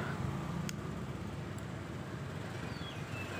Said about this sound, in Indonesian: seperti ini motor menyala tanpa kunci kontak